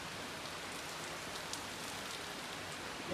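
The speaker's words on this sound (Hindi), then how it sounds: "बारिश आ गई है।" Steady rain falls outdoors at night, a soft continuous patter of drops on surfaces with no voices over it.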